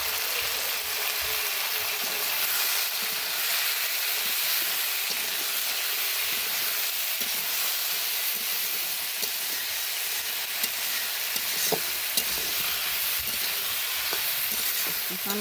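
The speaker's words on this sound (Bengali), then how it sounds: "আনাজটা ভালো করে ভেজে নিব।" Vegetables fry in a village kitchen pan with salt and turmeric powder, a loud continuous hiss of oil with scraping and stirring clatter running throughout, no talking.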